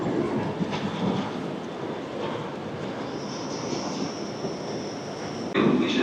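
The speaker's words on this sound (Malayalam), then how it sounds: "ഇത് സൂപ്പർ ഫാസ്റ്റ് ട്രെയിൻ ആണ് കേട്ടോ." A superfast train travels from Milan to Venice. A constant broadband rumble and rush of the moving train is heard from on board, steady and moderately loud throughout, with no talking.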